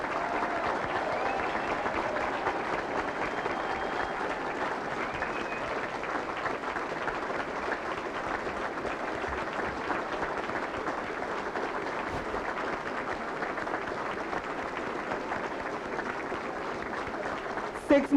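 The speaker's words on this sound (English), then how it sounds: "How about a nice round of applause for our newest officers?" Sustained, even applause from the crowd at a Boston Police Academy recruit graduation ceremony, a dense wash of many hands clapping in a large room for the whole stretch, with voices faintly mixed in.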